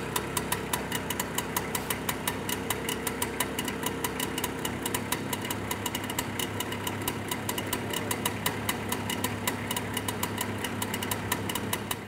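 A museum car engine idles on its own, a steady close rumble with rapid, even knocking pulses that continue unbroken throughout with no voices over it.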